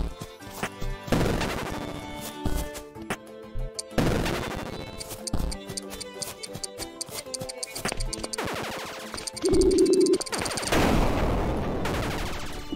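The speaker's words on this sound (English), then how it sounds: "That was quite an explosion." Heavy blasts and rapid bursts of crackling impacts in the video game There is no game, loud and close, mixed with game music and effects.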